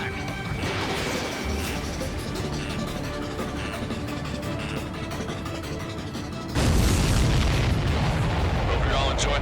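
Huge booming blast of a supply ship exploding in the Ace Combat 7 flight game, a dense roaring rumble that swells sharply louder partway through amid ongoing crashing impacts and radio talk.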